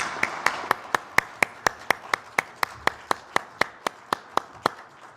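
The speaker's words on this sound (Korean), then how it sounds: "하나님께 영광의 박수 올려드리겠습니다." A church congregation claps in a steady, even rhythm, about four claps per second, crisp and reverberant, with no talk over it.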